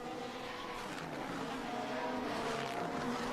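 Formula 1 car engine accelerating during qualifying at the United States Grand Prix in Austin, a steady high-pitched engine drone sustained throughout at moderate distance with no talk.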